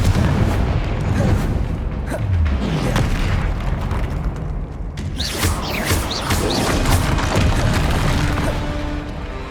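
Confringo blasting spells exploding in the video game Hogwarts Legacy, repeated booming blasts and crashing impacts layered with combat effects and continuous loud game noise.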